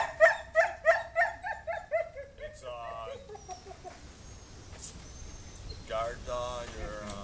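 A Rhodesian Ridgeback with aggression issues gives a rapid run of loud, sharp barks that fade into fainter yelps, while chicken-like clucks and background chatter come in later.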